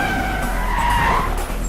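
A car skids hard during a chase scene in a dubbed South Indian comedy film, a loud sustained tire screech with engine roar running steadily for nearly two seconds, no talk over it.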